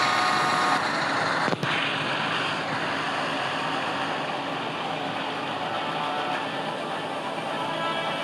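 A vehicle reverses in the video game GTA 5, a steady, loud engine and road drone that holds throughout with one short thump near the start and no speech.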